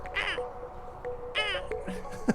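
A person imitates a cat with a few short, squeaky, high-pitched meows, spaced apart and fairly close.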